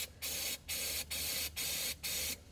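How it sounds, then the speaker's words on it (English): Cleaner sprayed from an aerosol can into an engine's air intake, heard as five evenly spaced hissing bursts of about a third of a second each, close and fairly quiet. "So I'm gonna spray a little action sauce in there."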